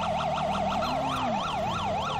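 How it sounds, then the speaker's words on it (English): A loud emergency siren wails continuously in the video game LSPDFR, its pitch sweeping up and down in fast regular cycles, with a lower engine hum beneath. "I know the siren and tones are very distracting"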